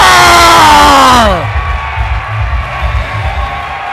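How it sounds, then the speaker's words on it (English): A wrestling crowd at an FSW Mecca VIII independent match roars loudly, with sustained cheering and rhythmic chanting that fades down into a lower, steady crowd din. "This blood-thirsty crowd is asking for one more."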